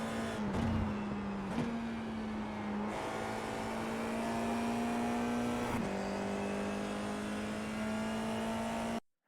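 An FIA F4 race car at the Barcelona circuit holds a steady, loud high-pitched engine drone from the cockpit, with brief dips at a couple of gear changes, then cuts off abruptly at the end.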